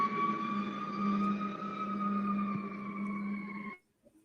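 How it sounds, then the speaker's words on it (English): Emergency vehicle siren in Chicago, a loud steady wailing tone with strong harmonics holding for several seconds before cutting off abruptly near the end, with no talk. "That's a Chicago siren for you."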